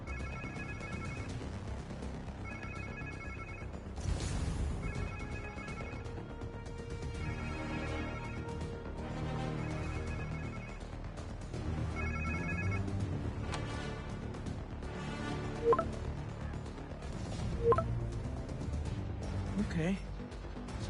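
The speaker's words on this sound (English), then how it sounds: "Sounds like somebody's phone." A phone rings in the video game Marvel's Spider-Man 2, with a faint electronic trill repeating in regular bursts every couple of seconds under game sounds and someone talking.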